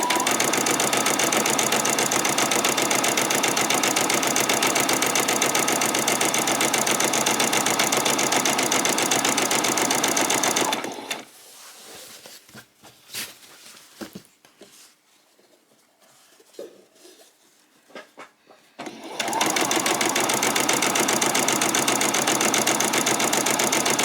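Sewing machine stitching fabric for a peasant skirt, a loud steady run of rapid stitching that stops briefly for faint handling noises, then resumes just as loud.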